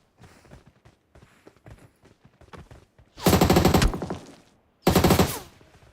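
An MG3 machine gun fires in a video game, with two loud sustained bursts, the second shorter, following a run of quieter clicks and footstep-like taps.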